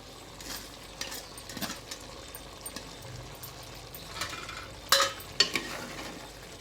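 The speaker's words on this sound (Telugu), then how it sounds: "మంచి ఆయిల్లో మగ్గుతుంది ఇది తొందరగా మగ్గిపోతుంది మెంతికూర" Fenugreek leaves cooking down in hot oil for a mutton curry give a quiet, steady sizzle with stirring scrapes and a few louder clinks near the end; no one speaks.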